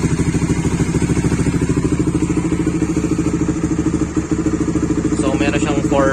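A Suzuki Raider GTR 150 motorcycle fitted with a racing ECU and an aftermarket muffler runs nearby with a loud, rapid, pulsing exhaust beat, and a voice briefly comes in near the end.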